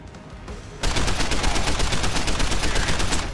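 Rapid automatic gunfire in the video game Deus Ex: Human Revolution, blind-fired from cover, breaks out after a quiet moment and continues as a loud, dense, steady burst of evenly spaced shots until the end.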